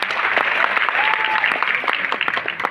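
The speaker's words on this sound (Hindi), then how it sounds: "ताली बजाइए" A seminar audience claps hands together, a full and sustained round of applause from a sizeable crowd, steady and loud throughout, with a voice briefly audible over it.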